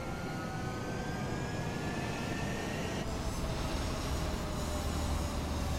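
A fighter jet takes off in the video game Ace Combat 7, a steady, faint jet engine roar with a rising whine that holds constant throughout, no voices.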